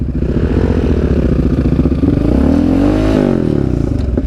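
A motorcycle engine runs close by with a deep, lumpy idle, then revs up and settles back down, loud and alone.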